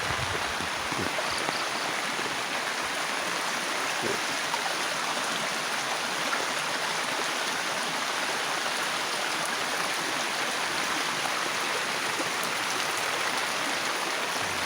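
Water flows steadily down a stream in a constant, broadband rushing wash, moderately loud and close, without pauses or speech.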